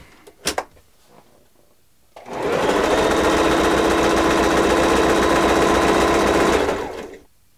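A Pfaff 160S sewing machine runs in one steady burst of stitching for about five seconds, loud and close, after a couple of brief clicks, then stops.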